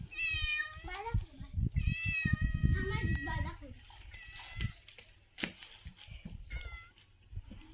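A cat meows repeatedly, close and clear, several drawn-out cries while a person talks and some clattering goes on nearby.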